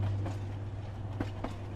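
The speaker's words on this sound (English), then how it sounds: "This is the Mauritania Railway, one of the longest trains on the planet." A very long Mauritania Railway iron ore train rolls across the Sahara, its steady low rumble punctuated by a couple of sharp rail clacks, loud and close with no voices.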